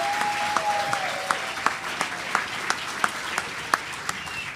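Scattered applause from the audience at a cadet corps enrollment and promotion ceremony. Individual hand claps come at an uneven, sparse rhythm over a faint room hum and sound fairly quiet and somewhat distant.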